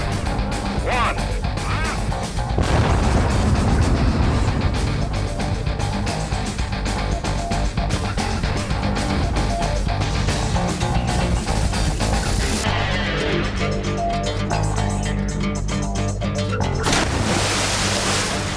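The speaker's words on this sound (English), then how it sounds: "just 2 modern-day artillery shells did that" Two modern artillery shells packed with 24 kilos of high explosive detonate in a loud, broadband blast. A long, roaring rumble and debris noise follow and fill the rest of the clip.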